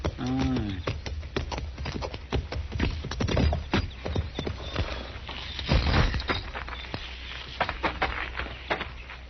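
Horses in a corral in an old Western radio drama: steady clip-clop of hooves with a brief whinny at the start, close and busy, with no talking over it.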